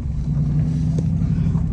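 A rebuilt Dodge Challenger drives on a test drive with a loud, steady low engine drone and road rumble from inside the car, continuous throughout.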